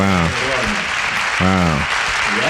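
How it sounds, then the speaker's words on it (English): Audience applause sounds as a broad, steady wash of clapping beneath loud, clear voices of people talking over it. "A little bit of applause there, right?"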